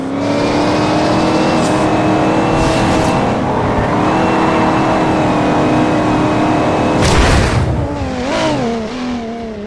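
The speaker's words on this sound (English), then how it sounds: "Hit that nitrous" Engine of a car in the Forza Horizon 2 racing game revving hard under nitrous boost, a loud sustained roar with rising and falling pitch, a sharp surge near the end as the boost kicks in.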